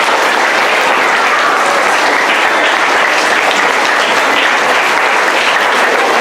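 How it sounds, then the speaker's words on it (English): Audience at a school quarter-three awards ceremony claps for award recipients, a dense, steady burst of applause filling the whole stretch at full volume with no talk over it. "You can keep clapping for this group."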